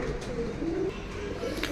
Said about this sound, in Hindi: ये आ गई कबूतरी भाई, नफ्ती कबूतरी है